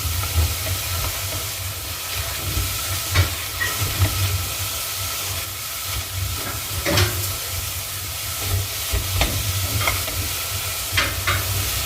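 Mushrooms sauté in a hot pan for a cream of mushroom soup, giving a continuous steamy sizzle with intermittent scraping and stirring clicks, close and fairly loud with no talking.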